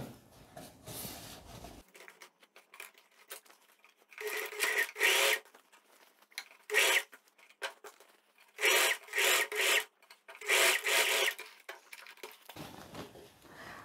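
A sewing machine topstitches close to the edge of a tailored vest, running in several short, loud bursts of rapid stitching separated by quiet pauses as the fabric is repositioned.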